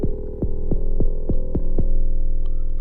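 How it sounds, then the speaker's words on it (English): A Korg Volca Drum kick drum runs through a waveguide resonator, giving a steady series of about seven punchy kicks, each ringing into a sustained tuned hum that lingers underneath. The kicks are loud, close and evenly spaced. "that kick drum, let's send it through the waveguide resonator"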